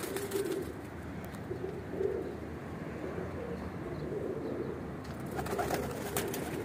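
Flock of pigeons, including a female in new feathers, cooing continuously in a loft, a low dense chorus with brief sharper flutters near the end and no speech.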